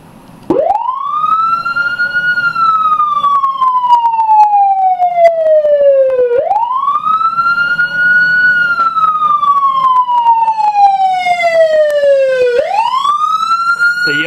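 A Federal Signal Interceptor police siren on its wail tone wails steadily, rising sharply then slowly falling in long sweeps, three full cycles, loud and close with no voices.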